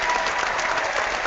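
A wrestling audience applauds in a steady, dense wash of clapping that stays loud and even throughout, with no voices standing out.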